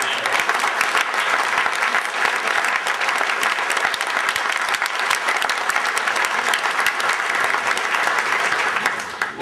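Loud, sustained applause from a large audience greeting a speaker at an evening event, dense steady clapping that runs the whole stretch without a break.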